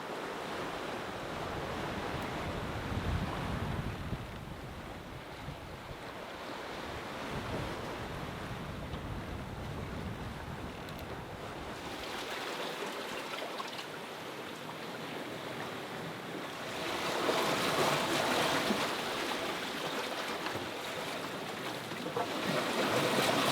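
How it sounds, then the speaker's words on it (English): Ocean surf and wind in the mid-Atlantic on a sunny day, a steady broad wash of breaking waves and gusting wind noise across the microphone, swelling louder in places with no talk. "This is still beautiful, and yeah, it's a stunning day."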